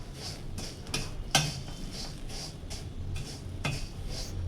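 Churumuri, a puffed rice snack with coriander leaves, being tossed and mixed in a bowl by hand, giving soft repeated rustling and light clinks against the bowl in a steady rhythm, close and fairly quiet with no talking.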